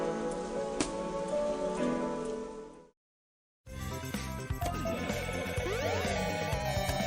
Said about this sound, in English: Actually, I added rain to the game just because of it.